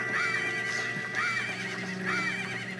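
A horse in Zelda Majora's Mask whinnies in repeated neighs over a steady background of game music and hoofbeats, clear and close, with no voices.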